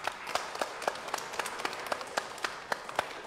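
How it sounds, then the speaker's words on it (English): A crowd applauds steadily, many hands clapping in a dense, continuous patter with a few sharper claps standing out. "Let's give them a round of applause."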